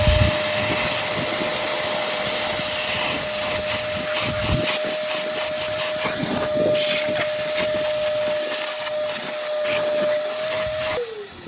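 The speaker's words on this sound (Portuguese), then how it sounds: "até peguei o prolongador do aspirador" A vacuum cleaner fitted with an extension hose sucks debris out of a deep hole dug for garden lighting, a loud steady roar with a constant whine running throughout, brief rattles of material passing through the hose, no talk.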